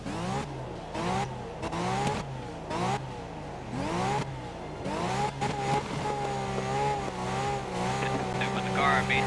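Ferrari race car engine in Grid 2019, revving and shifting through gears in repeated rising sweeps, loud and close, with tire noise and a voice talking over it.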